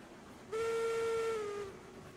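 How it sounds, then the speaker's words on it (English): A steam locomotive whistle in the railway game Railroads Online gives one steady, loud blast of about a second, then eases down in pitch and volume as it tails off over quiet background. "I really like going like full whistle, half whistle."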